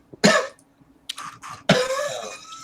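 A man imitates harsh coughing and throat clearing with his voice, acting out coughing up blood: a sharp burst, a pause, two shorter hacks, then a longer, rough, sputtering cough, close and fairly loud.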